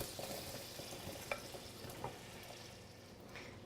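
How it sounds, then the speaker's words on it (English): Onions and chilies hitting melted butter in a pan, a soft steady sizzle with a few light stirring clicks, close and moderately quiet, no voices. "I'm going to go ahead and add the onions and chilies so we can saute those"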